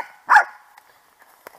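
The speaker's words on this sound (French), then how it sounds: "Ah, c'est le chien." A dog gives one loud, close bark, followed by a few faint, brief yips and noises.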